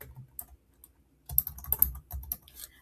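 Irregular bursts of keystrokes on a computer keyboard, sparse taps at first and then a quicker cluster of clicks, close and fairly quiet with no voices.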